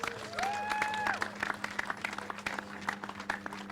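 An audience claps in a round of applause at an event at Kirribilli House, moderately distant, the steady patter thinning out over a few seconds.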